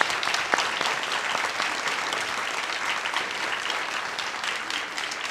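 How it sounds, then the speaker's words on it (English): A crowd at an outdoor graduation ceremony for a class of veterans with service dogs gives a big round of applause, continuous dense clapping throughout that eases slightly toward the end. "one more big round of applause for them"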